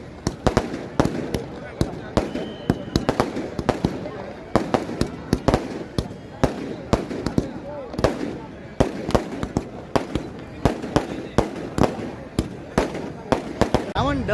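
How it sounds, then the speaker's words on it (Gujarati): Firecrackers packed inside a burning Ravan effigy burst at a Ravan Dahan celebration in Bhavnagar, with a large crowd present. Dozens of sharp, loud cracks pop in rapid, irregular bursts over a steady background of crowd noise. "હજી રાવણમાં ફટાકડા ફૂટી રહ્યા છે"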